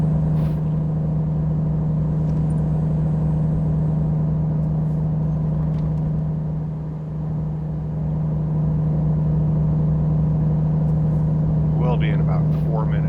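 A truck engine in American Truck Simulator drones steadily as a loud, low, constant hum for over ten seconds, with faint higher sounds creeping in near the end.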